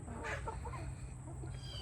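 A chicken clucks in short, soft, low bursts close by, alongside other birds in the flock, with a steady outdoor rumble underneath.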